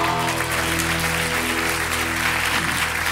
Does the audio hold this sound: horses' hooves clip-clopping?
no